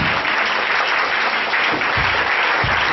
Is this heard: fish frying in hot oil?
no